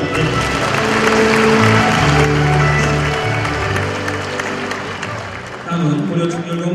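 Audience applause at a formal ceremony marking the 800th birth anniversary of Goryeo statesman Kim Bang-gyeong, a broad steady clapping wash with a tonal hum or music underneath, dipping slightly before swelling again near the end.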